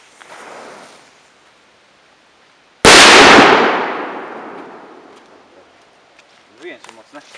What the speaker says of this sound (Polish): Petarda 5-gramowa